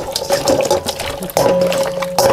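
Pork stomach is rinsed under a running kitchen tap, a loud close stream of water splashing with shifts in tone as the flow hits the meat and sink, briefly interrupted then resuming.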